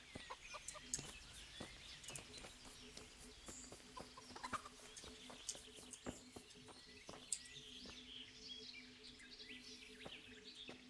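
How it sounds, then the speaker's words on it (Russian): A rooster crows amid clucking fowl and chirping birds in the farmyard of the video game Kingdom Come: Deliverance, faint and somewhat distant over a soft outdoor ambience. "Петушок."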